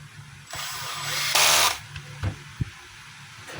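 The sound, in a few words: screw being fitted into Black and Decker G720 grinder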